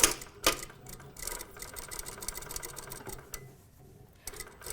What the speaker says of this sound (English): When you start stitching your hem, make sure you start on a seam.